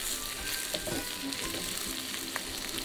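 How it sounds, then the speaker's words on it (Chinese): Yellow catfish frying in hot salad oil and lard in a wok, a dense, steady sizzle and crackle throughout with faint stirring movements, no voices. "煎鱼前呢，我们把油温升高，高油温能迅速让鱼皮定型，这样呢就不容易粘锅，鱼也不容易碎"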